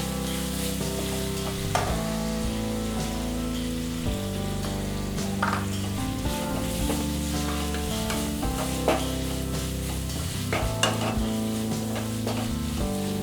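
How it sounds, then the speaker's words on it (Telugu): Chopped green chillies fry with salt in a pan, a continuous close sizzle broken by the scrape and clatter of stirring. "తరిగి పెట్టుకున్న పచ్చిమిర్చి వేసుకొని వేయించుకోవాలి."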